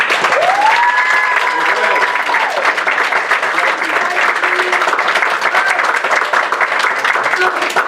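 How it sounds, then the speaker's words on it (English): A crowd at a Queens borough board meeting applauds loudly and steadily, a dense wash of clapping that holds from start to finish. "can I get a great, big, loud round of applause for Richard Lee?"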